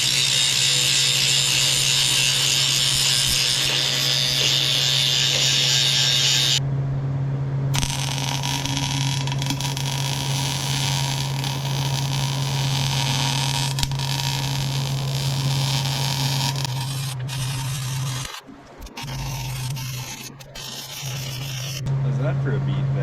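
Pipe being welded for fence line feed bunks, a steady close buzzing crackle over a low electrical hum that runs almost the whole time, with a short break and uneven patch near the end.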